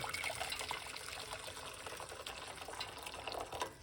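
Hot water poured into a cup, a soft continuous trickle that stays faint and steady for several seconds with no voices.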